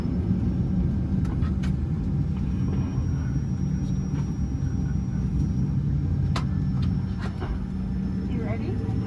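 An American Airlines A319 airliner taxiing at Sacramento International Airport, heard from inside the cabin: a steady low engine rumble with faint clicks and a brief muffled voice over it.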